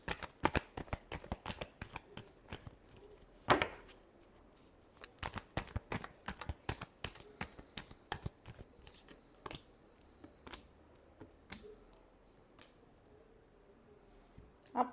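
A tarot deck shuffled by hand close up, with a long run of sharp card slaps and clicks, a louder flurry partway through, then sparser taps toward the end, with no talking.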